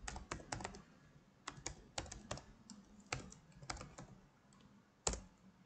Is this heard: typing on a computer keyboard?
yes